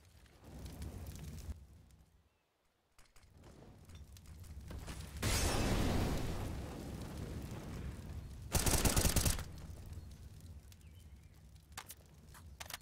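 Automatic rifle bursts and explosions from a competitive Counter-Strike match, including an AK-47 and a grenade, come as loud broadband blasts between quieter stretches of in-game footsteps and ambience.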